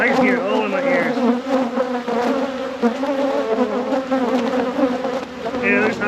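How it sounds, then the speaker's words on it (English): Honey bees swarming around a hive during an inspection, a dense, continuous close-up buzz filling the whole stretch, loud and unbroken with shifting pitches as bees fly near. "you can see how much they're swarming me right now"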